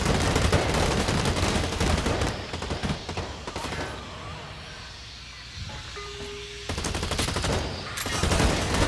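Grenade launcher blasts and rapid gunfire in the online shooter Blacklight Retribution: dense bursts of shots and booms, loud and close, easing to a quieter stretch midway with a brief tone before heavy firing resumes.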